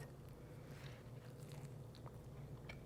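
Crisp biting into a flaky fig and cream cheese pastry cookie, close and fairly quiet, with a few light crunches and chewing sounds over a steady low room hum.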